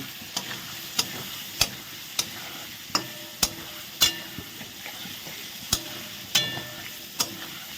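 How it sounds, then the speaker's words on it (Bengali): A spatula knocks and scrapes against a pan at irregular intervals about once a second, over a constant sizzle of potatoes frying with spices. "সুন্দর করে চারিদিকে নেড়ে দিচ্ছি"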